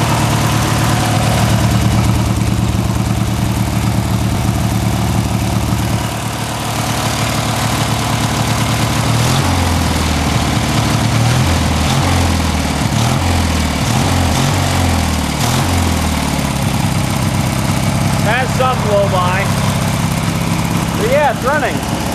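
A Briggs & Stratton engine on a Bolens lawn mower runs roughly and unevenly, a loud close chugging idle with a wavering beat, while people talk over it.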